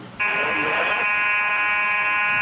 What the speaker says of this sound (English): the fire alarm goes off in the middle of the night